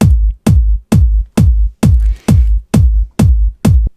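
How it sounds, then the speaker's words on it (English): Trance kick drum sample with effects, nine punchy, booming kicks in a steady four-on-the-floor pulse, each with a sharp click and deep tail, played alone. "In a trance track, we need to start off with a kick"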